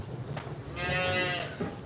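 A cow on a dairy farm lets out a single drawn-out moo nearby, rising over a background of rustling outdoor noise.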